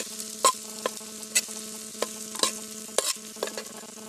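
Kudampuli frying in oil in a pan, with a spoon scraping and clinking against the metal in a loose rhythm, about eight distinct strokes over a low, soft sizzle and a steady background hum.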